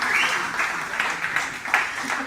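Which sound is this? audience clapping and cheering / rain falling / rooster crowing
audience clapping and cheering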